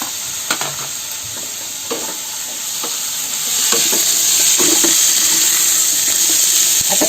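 Peas and bell pepper sizzling and frying in a pan, a steady hiss that swells louder midway, with scattered clinks and scrapes of stirring on top.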